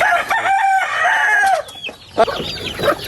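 Pet chickens at feeding time: a rooster crows loudly and close by, followed by busy clucking from the flock.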